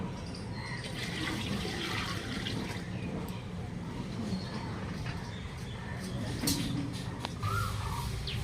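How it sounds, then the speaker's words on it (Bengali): Water is poured into rice for homemade rice papad, a steady close splashing pour running without a break from start to finish. "তার জন্য আমি আরও জল দেবো"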